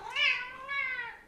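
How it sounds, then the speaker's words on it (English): A cat meows twice in quick succession, a drawn-out, clear call followed by a second slightly lower one, close by and alone with no talking. "There's my cat."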